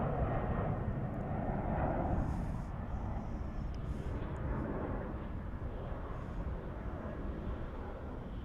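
A plane at DFW International Airport gives off a steady, loud broadband roar of jet engine noise across the whole clip, with no voices heard over it.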